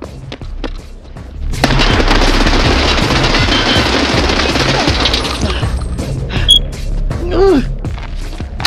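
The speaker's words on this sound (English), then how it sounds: "I killed him with the grenade" In Escape from Tarkov, a grenade blast and a dense burst of gunfire erupt at close quarters, loud and sustained for several seconds before trailing into scattered impacts and faint voices.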